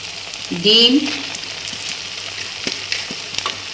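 Prawns go into hot spiced masala with a sharp burst of sizzling and a squeal near the start, then a close, steady frying crackle settles in.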